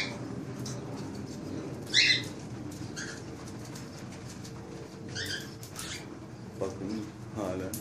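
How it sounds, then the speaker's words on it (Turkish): Cockatiels squabble over seeds in a cage strewn with husks and uneaten feed, giving a few sharp squawks and chirps, loudest around two and five seconds, over a steady low background hum. "kavga ediyor kuşlarımız. Çekirdek kavgası yapıyorlar şu an."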